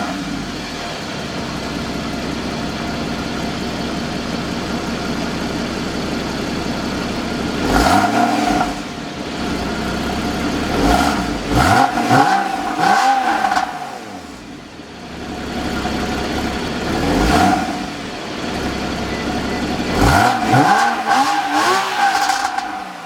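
A stock Porsche Cayman S with its factory exhaust starts and is revved in several sharp blips that swell and fall back to a steady idle, loud and close by with no talking.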